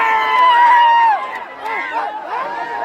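A crowd at a village bullock-cart race celebrates a group's victory, with loud overlapping shouts and voices close by, rising cries then a surge of excited chatter.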